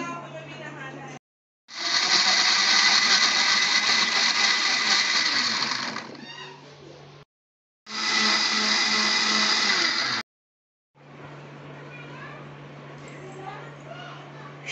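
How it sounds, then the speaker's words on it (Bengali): A blender grinds ginger, garlic, green chili, onion and tomato into paste in two loud, steady bursts of whirring. Quieter stretches between them carry a low hum and light clatter. "আদা, রসুন, কাঁচা লঙ্কা, পেঁয়াজ, টমেটো সবগুলো উপাদান আমি বেটে নেব।"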